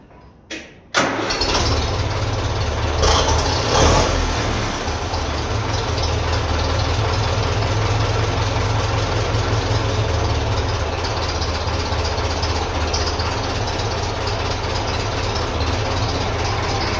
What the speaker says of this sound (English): we'll just give it another quick start there